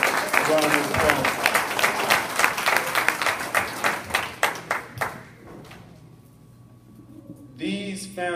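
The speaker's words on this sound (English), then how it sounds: "please give my three aunts, my two aunts and my mom a round of applause." An audience at a family reunion banquet applauds, a dense round of clapping that thins into scattered claps and fades out after about five seconds, followed by near silence and then a voice speaking.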